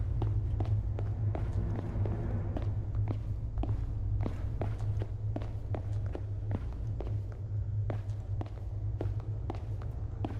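Footsteps in Slender: The Arrival, a steady series of distinct crunching steps at a walking-to-running pace, close and fairly loud over a low droning ambience, with no speech.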